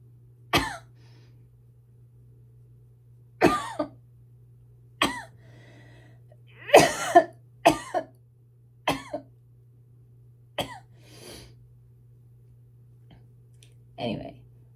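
A woman coughs repeatedly and loudly close by, in separate harsh bursts spread across a quiet room with a steady low hum underneath, some with throat clearing.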